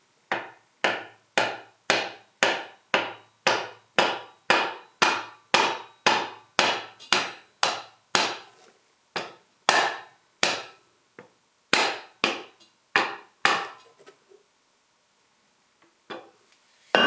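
The rubber side of a 2-pound hammer taps a locator into place on a John Deere 755 tractor. About two dozen sharp, regular knocks come close and loud, then slow to scattered hits before stopping.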